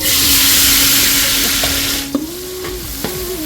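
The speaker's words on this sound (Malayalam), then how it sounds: "സവോള ഇങ്ങനെ വഴന്ന് വന്നുകൊണ്ടിരിക്കുന്നത്" Onions sauté in oil with turmeric for biryani, a steady loud sizzle and frying hiss with a few brief stirring clinks and a faint watery trickle toward the end.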